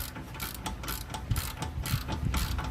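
A ratchet works loose the bolt on a Nissan rear shock absorber, a quick run of close, fine clicking with a metallic mechanical rattle, steady and moderately quiet with no talking.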